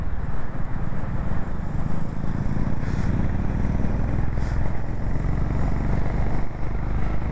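A Triumph Scrambler 400 X motorcycle engine revs continuously as the bike rides away, with a loud, rough exhaust note that stays steady throughout and carries no speech.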